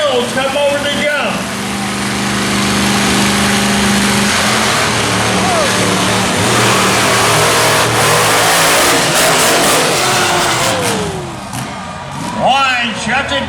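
Loud monster truck engine at a Tuff Trax event in Raleigh roars and revs continuously as the truck comes over a jump, with a commentator talking over it throughout.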